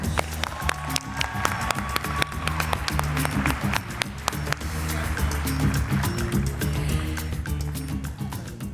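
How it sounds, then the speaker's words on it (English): Applause from an audience at a school district awards event, steady dense clapping throughout, fairly close and even, with low background music running underneath. "And a big round of applause for Melissa Pratt."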